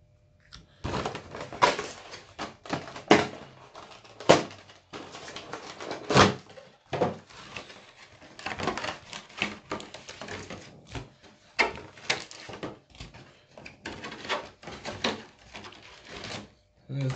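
A Pokemon Kingdra EX collection box being opened up close, with a run of sharp cardboard and packaging clicks, taps and rustles coming in irregular bursts, alongside occasional speech.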